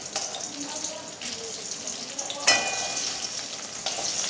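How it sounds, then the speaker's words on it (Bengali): Salt being stirred into a Bengali egg curry frying in a pan, giving a steady soft sizzle with light stirring scrapes and a sharper utensil knock midway. "নুন দিলাম, দিয়ে একটু নেড়ে নিচ্ছি।"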